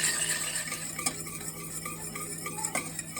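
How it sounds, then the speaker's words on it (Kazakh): A spoon stirs a sauce of melted butter and tomato paste in a pan, a steady close run of scraping and swishing strokes with light metallic taps over a faint sizzle, without any talking. "Мұқият араластырамыз."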